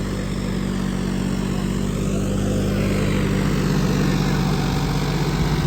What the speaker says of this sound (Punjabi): ਜੱਗਾ ਟਰੈਕਟਰ ਦੀ ਟਰਾਈ ਲੇ ਹੋ ਰਹੀ ਹੈ ਉਧਰ